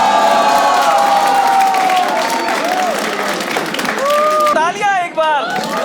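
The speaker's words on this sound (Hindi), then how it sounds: "तालियां एक बार सलोनी के लिए" A studio audience on a judging comedy show applauds and cheers for a contestant named Saloni, loud dense clapping with whoops and shouts, while voices carry over it.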